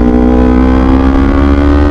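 Steady, close idle of a 2018 Kawasaki Ninja 250 sport motorcycle exhaust, a smooth continuous engine drone with no talk or change in pitch.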